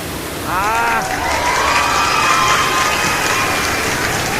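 Salvosa Falls in Maragusan gives off a steady broadband roar of falling water that holds evenly throughout, with voices calling and talking over it.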